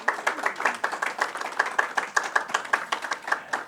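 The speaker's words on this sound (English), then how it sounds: "Please give her a round of applause." A small audience claps for a woman introduced on stage at a women's empowerment education event, a steady patter of hand claps with a fairly sparse, distinct rhythm, close and moderately loud, with no talking.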